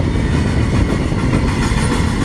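Freight train I-168, with autoracks at the front, rolls past close by in a loud, continuous rumble of wheels and cars.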